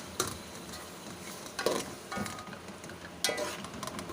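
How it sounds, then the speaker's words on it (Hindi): Minced meat fries in a pan with garlic, ginger and onion, a soft steady sizzle broken by a few sharp scraping stirs, quiet and close, with no talking. "अब हम इसको अच्छी तरह से मिक्स करके इसके साथ लहसुन अदरक और प्याज के साथ अच्छी तरह से भून लेंगे"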